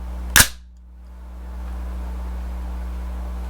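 A single sharp metallic clack of a firearm being loaded, close and loud, followed by a steady low hum.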